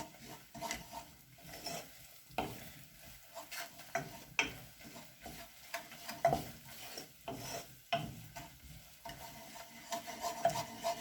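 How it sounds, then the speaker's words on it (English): A spoon stirs pumpkin risotto in a pot, giving soft repeated scrapes and thick, wet shuffling at an uneven rhythm, quiet and close with no voices. "Always try to stir so nothing sticks to the pot."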